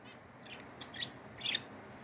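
Small pet birds in a home give two or three faint, high chirps over a quiet background, close but soft, with no one talking.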